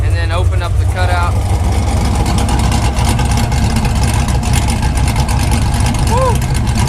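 A 500 HP Chevy Silverado 6.0 truck exhaust rumbles through the muffler and then an open QTP cutout, loud and close, with a deep steady drone. Brief voices and a whistle-like tone are mixed in.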